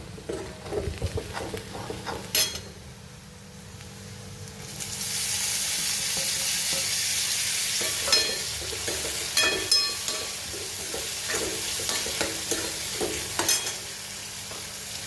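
Tomatoes go into ginger garlic paste and asafoetida in a hot pan, a loud sizzle rising after a few clatters and continuing with scraping and stirring knocks throughout.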